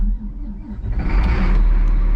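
An old trackhoe's diesel engine cranks and catches, a low rumble rising into a steady running roar, loud and close.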